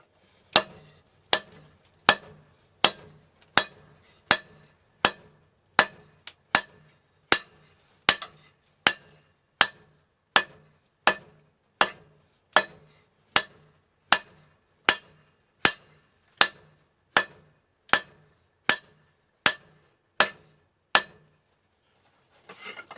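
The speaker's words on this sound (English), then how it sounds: "Just gotta really get some force into those hammer blows." Steady series of loud metallic hammer blows forging hot steel for a pickaxe knife, about twenty strikes in even rhythm, each ringing sharply, close by with nothing else heard.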